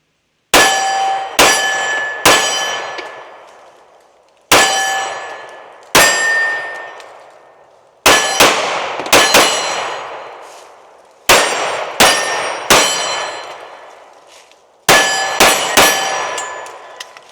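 Pistol rounds from a Canik Mete MC9L striking steel targets at an outdoor range, a series of sharp metallic clangs in quick clusters of two to four, each ringing out and decaying between groups.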